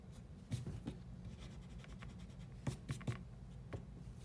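Pencil drawing fingernails on a hand sketch, with quiet scratchy strokes on paper in short bursts and a few firmer taps, close and faint with no talk.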